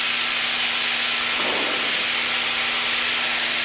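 Steady dense hiss of heavy rain, heard aboard an aircraft flying at about 100 knots ground speed, loud and continuous, with a brief low rumble in the middle.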